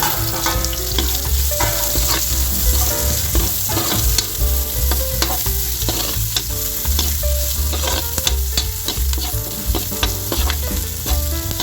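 Chopped onions sautéed in hot oil after garlic for pork menudo, a loud steady sizzle and crackle throughout with frequent scraping stirs of a spatula against the pan, no voices.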